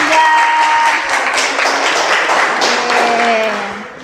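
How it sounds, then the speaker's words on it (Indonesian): Loud, steady applause from a classroom of students clapping for a student group after their turn in a teaching-practice lesson on prayer etiquette and dhikr; dense clapping that holds for several seconds and then tapers slightly. "Tepuk tangan untuk kelompok"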